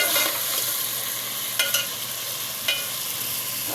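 Potatoes browning in hot oil in a pan give a loud, steady sizzle, with a few sharp scrapes and clacks as they are stirred.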